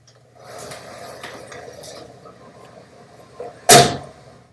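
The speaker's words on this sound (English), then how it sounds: "Our car door opening. Let's check that out." A car door opening sound effect: quiet mechanical handle and latch rattles lead to a sharp, loud clunk near the end, followed by a short fading tail.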